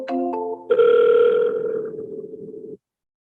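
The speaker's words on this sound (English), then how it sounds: "I'm going to actually connect the call real quick just to show you" Outgoing call connecting through CRM software: a short burst of electronic tones, then a loud steady ringback buzz that fades and cuts off sharply, followed by silence.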